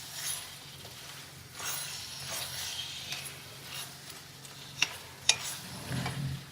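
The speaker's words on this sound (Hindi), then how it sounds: "सब्जियों को फ्राई करके" Capsicum and green onion stir-frying in a pan, a soft sizzle with light scraping strokes of a spatula and a couple of sharp clinks near the end, fairly quiet and steady with no voices.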